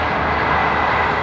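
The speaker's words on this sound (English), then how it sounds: "now I'm getting trains." Broadband rumble of a passing train near a golf course at Carlyon Bay, steady and loud throughout the short moment with no talk over it.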